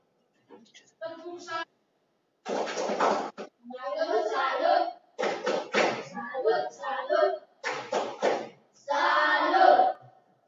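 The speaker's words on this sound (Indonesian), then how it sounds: "Silakan berdiri dan tepuk salut." Schoolchildren perform a rhythmic salute clap in a classroom, crisp hand claps in short patterned bursts with pauses between phrases, chanted voices mixed in.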